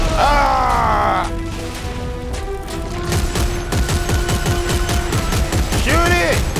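Rapid gunfire bursts in the sci-fi horror game Dead Space 3 during a chapter 11 boss battle, dense repeated shots with crashing impacts, someone shouting over them.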